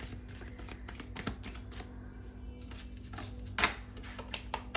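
Tarot cards being shuffled by hand, a soft run of rapid riffling flicks with a sharper snap near the end, close and fairly quiet over a steady background hum.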